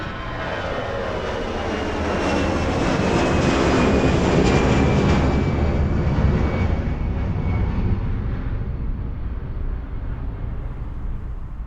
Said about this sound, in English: reproducing the exact position of an airplane as it passes by, from taking off to flying directly overhead